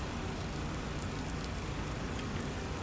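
Steady rain pours down in Farming Simulator, a dense, even hiss of drops filling the whole stretch without pause and with no other sounds on top.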